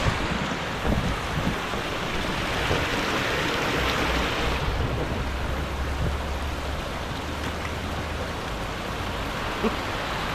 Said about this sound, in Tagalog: Oh, lumakas ng ulan.